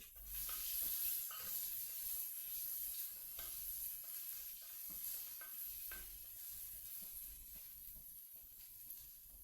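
Sliced onion fries in a pan for a roasted-coconut crab theeyal, a close, continuous sizzle broken by repeated scraping strokes of a spoon stirring through it.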